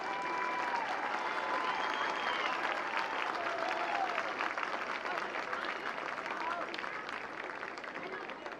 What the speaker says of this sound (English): Please join me in giving these coaches a round of applause to show our appreciation.